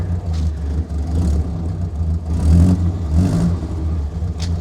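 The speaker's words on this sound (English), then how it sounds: "it should just start now on the key. I love an A-series." A 1972 Austin van with an A-series engine and a badly blowing exhaust runs steadily, a close, continuous mid-pitched engine drone with slight swells in revs and no talking.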